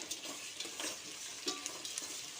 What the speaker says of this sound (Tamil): கல் உப்புங்க வதங்கட்டும் வெங்காயம் வதங்கிறதுக்காக ஆனியன் வதங்கிறதுக்காக போட்டிருக்கேன்